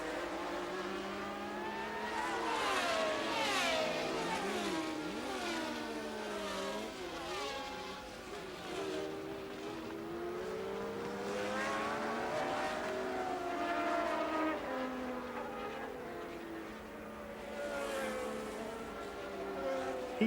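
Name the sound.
Formula 1 cars racing at Zandvoort 1982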